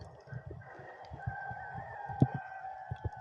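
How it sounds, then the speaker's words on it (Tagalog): Chickens cluck and a rooster crows in the early morning by the sea, with repeated clucks and a sustained crow over a soft wash of waves, fairly close and with no talk. "Ang naririnig nyo ay ingay lang ng manok at alon."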